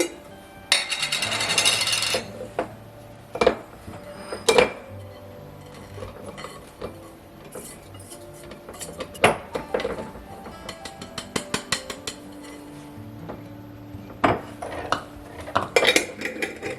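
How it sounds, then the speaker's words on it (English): A spice mix of cayenne pepper and other ground spices is stirred briskly in a bowl, with repeated metal spoon clinks and scrapes. Sharp knocks follow as the mix is tipped into a glass jar, close and clear, with no talking. "We're going to give this a good mix. I'll go ahead and put that in this jar."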